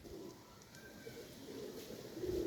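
Racing pigeons in a loft coo softly and steadily, a low throaty murmur running continuously throughout against a light background hiss, with no talking.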